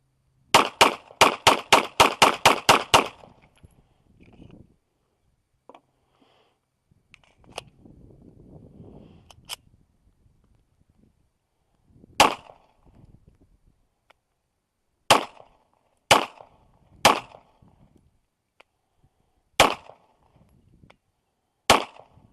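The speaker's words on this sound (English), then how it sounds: "Do some more rapid fire." A Polymer80 G34 pistol fired outdoors: a fast string of about nine sharp shots, then a pause and single, spaced shots with long gaps between them, loud and close.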